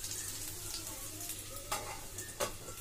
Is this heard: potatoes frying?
yes